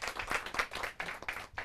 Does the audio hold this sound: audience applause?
yes